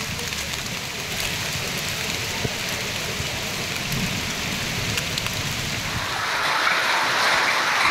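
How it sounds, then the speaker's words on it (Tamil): Hailstorm rain pouring down in Tirupattur, a dense, loud, continuous roar of drops hitting surfaces that swells slightly toward the end, with no speech. "திருப்பத்தூரை குளிர்வித்த ஆலங்கட்டி மழை."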